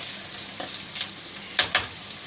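Sliced onions sizzle and fry in hot oil while a spoon stirs them, a steady close crackle broken by a few sharper scraping clicks.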